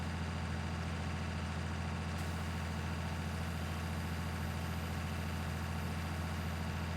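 A steady, low, droning tractor engine runs continuously in the farming game Farming Simulator 19, loud and unchanging throughout with no voices.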